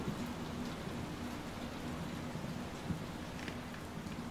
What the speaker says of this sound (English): It's raining inside.